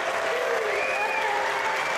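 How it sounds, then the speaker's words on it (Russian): An audience bursts into applause for a girl on stage, a dense and steady wash of clapping from a crowd with no break, close and fairly loud throughout. "теперь аплодировали только ей"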